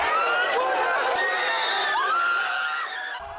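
Huge crowd in Port Moresby cheering and shouting as an Australian rugby league team arrives, a dense mass of excited voices with some high shrieks, fairly close and continuous before easing off at the end.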